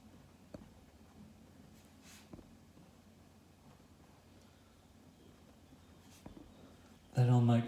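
A pen scratches faintly across paper while drawing floral shapes for paisley artwork, soft intermittent strokes close by under quiet room tone, ending in a louder thump.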